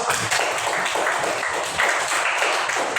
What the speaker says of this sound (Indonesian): Bisa kita kasih aplaus dulu.